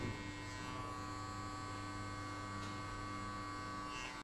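An electric hair clipper buzzes continuously with a steady, faint hum during a close, very low taper haircut, with no talking.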